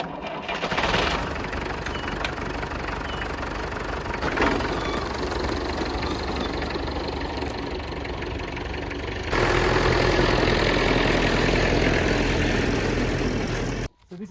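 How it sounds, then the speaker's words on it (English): Massey Ferguson 532 sickle bar mower engine cranking to life and then idling with a steady low mechanical rumble and knock, growing louder partway through before cutting off abruptly at the end. "So this is what they call a sickle bar mower. It's a Massey Ferguson 532"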